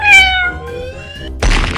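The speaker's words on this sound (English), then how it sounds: "Cat." A cartoon cat meows in an animal painting video game: one clear, drawn-out meow that bends in pitch and fades, followed by a sudden burst of loud, noisy game sound.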